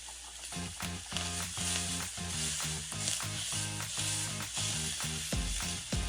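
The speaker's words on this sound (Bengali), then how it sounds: "এবার এই মশলাটাকে ভালো করে কষাতে হবে।" Bengali egg curry masala fries in a pan, crackling and sizzling steadily at close range with a dense run of popping spits throughout.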